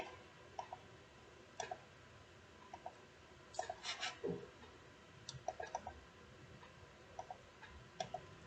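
Sharp mouse clicks on a computer while working in GeoGebra to toggle objects off, coming in quick pairs and singles spread over several seconds, close and fairly quiet, with no talk.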